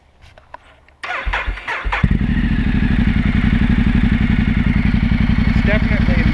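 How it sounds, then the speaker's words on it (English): A Ducati 1200S motorcycle fitted with a Termignoni full race exhaust cranks over and fires, settling into a loud, steady, rapidly pulsing idle close to the microphone. "This is the full race system. We'll fire it up."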